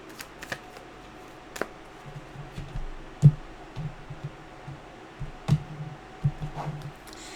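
Tarot cards are shuffled close up in a quiet room, a series of soft riffling bursts and sharp taps as the deck is cut and squared, irregular and fairly faint.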